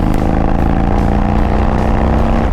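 An Indian Chief Dark Horse motorcycle with an aftermarket exhaust runs close and loud, a deep steady engine drone with a throbbing low rumble that holds without a break.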